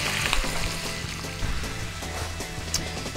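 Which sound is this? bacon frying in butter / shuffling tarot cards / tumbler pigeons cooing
bacon frying in butter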